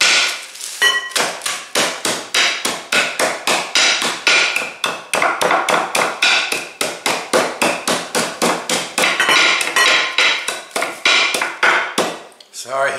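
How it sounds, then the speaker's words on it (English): A rolling pin pounding food to crush it for a butternut squash pie, a loud rapid series of sharp, evenly spaced thuds, roughly three or four per second, continuing for about twelve seconds close by. "And to crush them, I do this. Just take the rolling pin,"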